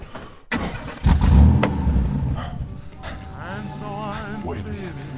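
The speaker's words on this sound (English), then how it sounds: "Arthur, start the car and drive" A car engine in a horror audio drama cranks and catches with a loud roar, then settles into a running hum as the car pulls away, with tense voices speaking over it.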